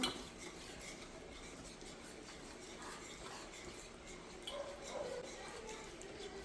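A spoon works through ragi and wheat flour biscuit batter in a bowl, giving a faint, steady scraping and sloshing that runs the whole way without speech.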